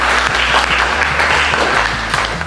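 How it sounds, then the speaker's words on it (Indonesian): Classroom audience applauding a student group after their presentation, a dense, loud, steady wash of clapping from many hands nearby. "Kita kasih aplaus dulu ya untuk kelompoknya."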